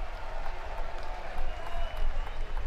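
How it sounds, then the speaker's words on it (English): A college baseball crowd at a Razorbacks game applauds and cheers after a strikeout, a dense wash of distant clapping and crowd noise rising and falling, with a commentator talking over it. "the crowd certainly liked that"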